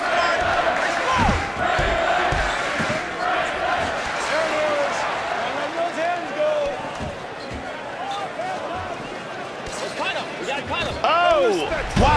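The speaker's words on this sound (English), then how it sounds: "The crowd loves Rich Ace Franklin." Arena crowd noise from the UFC Undisputed 3 video game, a steady roar of spectators running throughout under a commentator's voice, with a louder swell near the end.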